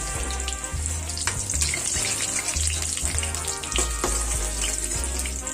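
Golden potatoes sizzle in hot oil with a steady crackling fry, broken by the soft knocks and scrapes of pieces being lifted out of the pan, with no voices over it.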